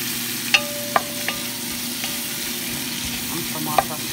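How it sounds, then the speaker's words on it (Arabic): Tomatoes frying together with onion and red pepper give off a steady, moderate sizzle, with a few sharp clicks from a utensil striking the pan as they are stirred. "عم طماطم راح نقليها ويا البصل والفلفل."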